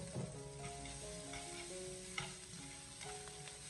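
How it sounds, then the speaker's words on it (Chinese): Noodles stir-fried and pan-seared in a hot wok give off a steady close sizzle, with scraping and tossing noises and a faint tonal hum running beneath. "我们将面条下锅以后，给它一边翻炒，再一边稍微的煎一下，利用煎炒的方式把面条炒至干香"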